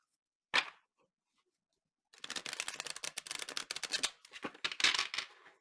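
A tarot card deck being shuffled: one short crisp riffle, a pause, then about three and a half seconds of dense papery flutters and snaps in quick irregular bursts, close and clear, with no voices.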